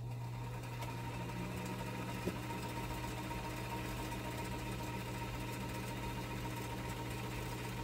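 A freshly restored Singer Featherweight sewing machine running steadily, a quiet continuous mechanical whir and hum with no pauses, no talking.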